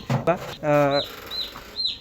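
A small chicken chick gives three thin, high peeps spaced apart, following a brief burst of a nearby voice at the start.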